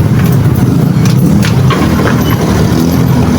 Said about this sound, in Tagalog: goods naman ang andar ng kanyang makina mga friend